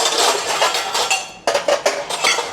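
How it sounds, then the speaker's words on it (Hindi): Morning dishes, washed and still clean, go into a second dish stand. Metal utensils and plates clatter and clink close by in a quick run of sharp knocks. "अभी दूसरे स्टैंड में लगा देते हैं ये सुबह के मंजे हुए बर्तन"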